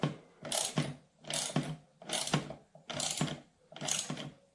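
A ratchet tightens the stabilizer bar on a Stamina cardio exercise bike in five rhythmic rounds of close, crisp clicking, each about half a second long and separated by short pauses.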